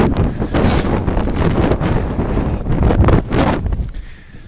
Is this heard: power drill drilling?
no